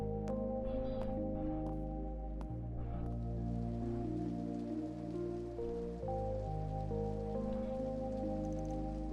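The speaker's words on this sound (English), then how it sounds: "Oh no, it's raining." Rain falls steadily in the video game Trails Through Daybreak, a soft continuous patter beneath sustained background music.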